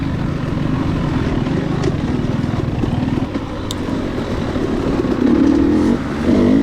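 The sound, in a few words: KTM 300 XC-W motorcycle racing through woods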